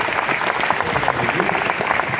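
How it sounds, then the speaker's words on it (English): A live audience at a televised talk show with a former heavyweight boxing champion bursts into loud, dense applause, a steady wash of clapping that fills the whole moment without a break. "Give her a round of applause, ladies and gentlemen."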